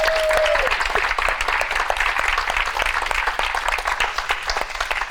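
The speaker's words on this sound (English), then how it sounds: "Can we give them a round of applause?" An audience at a book co-author showcase gives a round of applause, steady close clapping with distinct individual claps, a brief tone at the start, continuing evenly to the end.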